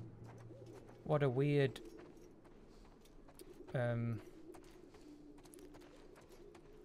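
Pigeons coo in The Last of Us Part II, with two short, fairly loud throaty calls about two seconds apart over a low ambient hum, and a voice speaking briefly nearby.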